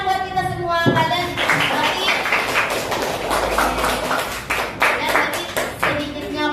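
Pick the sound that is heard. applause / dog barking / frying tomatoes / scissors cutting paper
applause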